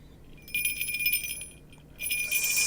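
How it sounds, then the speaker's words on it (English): A small falconry tail bell shaken by hand gives two bursts of bright, high jingling, close and fairly loud, with a short pause between them and no voices. "So what I usually do is I pick up a bell and I shake it"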